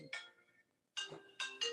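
A phone ringtone sounds in short, bright electronic bursts, several repeated chirps at low volume in a quiet room, with no talk over it.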